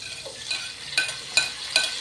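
Onions sautéing in a pan, a soft low sizzle with four or five sharper scrapes and clinks of a spatula stirring, fairly quiet and with no talk.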